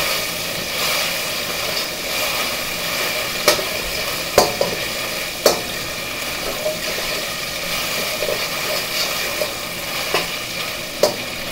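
Pork sizzling steadily in a hot pan during stir-frying for fried rice, a continuous bright hiss broken by several sharp clacks of a utensil scraping and tossing the meat, with no talking.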